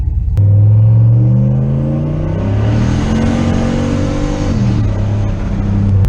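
Car engine fitted with an eBay dual-stage boost controller, revved under part throttle rather than wide open: a loud, close, continuous rumbling drone whose pitch climbs steadily and then drops back, with no speech.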